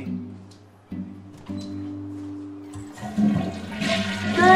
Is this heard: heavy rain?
no